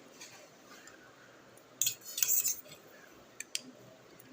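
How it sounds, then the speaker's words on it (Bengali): A metal spoon clinks against a bowl while yogurt goes into soaked flattened rice, making a brief cluster of bright clatters and a couple of isolated taps against a quiet background. "এবার আমি দই দিয়ে দেবো এর মধ্যে।"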